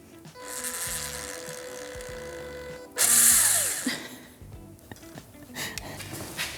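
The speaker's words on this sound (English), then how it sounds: "drill out the holes in these ribs, put the riv nuts in so we can bolt the inverter into place" A power drill bores holes in aluminium ribs to fit rivet nuts for an RV inverter mount, a loud whining run that climbs into a harsh screech as the bit bites, followed by handling clatter.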